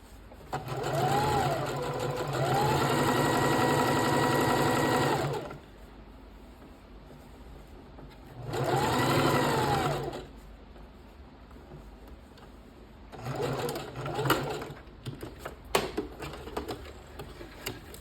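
A sewing machine stitches a fabric scrunchie in three bursts, a long fast-running stretch, a shorter one after a pause, then a brief uneven run. The motor whirs loudly and close, with quiet handling sounds in between.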